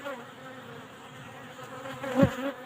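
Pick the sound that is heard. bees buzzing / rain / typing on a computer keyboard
bees buzzing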